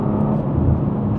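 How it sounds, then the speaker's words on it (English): Engine of a manual BMW M2 G87 as the driver lifts off the accelerator, a steady low broadband rumble heard from inside the car, loud and continuous with no speech over it. "I like the noise it makes when I release the accelerator."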